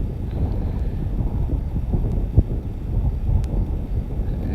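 Wind gusts buffet the microphone during a FIMI X8 Mini Pro drone flight climbing toward a lake, a steady low rumble with one brief thump, no voices.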